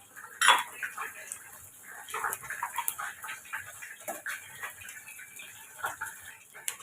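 Mustard and cumin seeds crackle and pop in hot oil in quick, irregular bursts, close by, with a few light metallic clinks of utensils.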